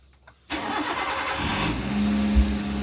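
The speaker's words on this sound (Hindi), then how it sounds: "गाड़ी अपनी स्टार्ट हो गई है" A car engine cranks and fires up after a coolant flush, then settles into a loud, steady idle close by, with no one talking.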